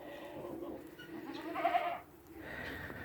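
Goats bleating around feeding time on a cold farm, a few wavering calls rising over a steady background hum, moderately close and fairly loud in the middle before fading.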